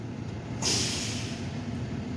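A single sharp hiss of bus air brakes releasing, loud and close, over a low idling engine rumble, at Ashmont Station.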